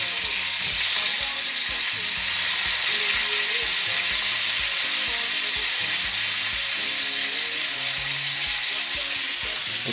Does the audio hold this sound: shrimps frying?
yes